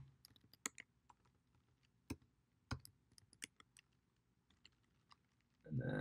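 Quick, sparse keystrokes on a computer keyboard as terminal commands are typed to change into an SSH folder, close clicky taps in short bursts, ending with a brief rustle.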